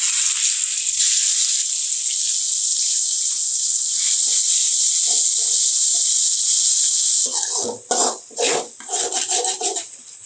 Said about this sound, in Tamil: வெங்காயம் எல்லாம் சேர்த்து அரைச்ச விழுது அதை இதில் சேர்த்து விட்டுடலாம்.